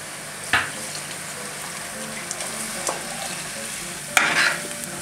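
A spoon scrapes and stirs in a pot of Turkish diş hediği soup with a couple of sharp clinks, over a soft continuous sizzle.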